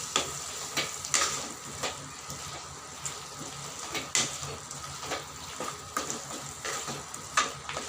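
Mutton curry with chili powder being stirred in a pan: a soft sizzling hiss punctuated by repeated scraping and clinking strokes of a spoon, close and moderately quiet.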